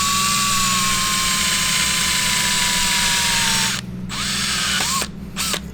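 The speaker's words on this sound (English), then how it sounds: "I have no idea why we're drilling there." A power drill whines loudly and steadily, close by, while drilling during a clutch job on a BMW E90 335i, then stops and starts again in a few short bursts with falling pitch as it spins down.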